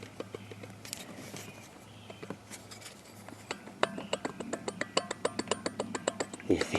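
Worn tensioner pulley spinning on a 2005 Chevrolet Suburban engine, a rough grinding hum that turns into a fast, regular metallic ticking and clicking, growing louder and more distinct toward the end.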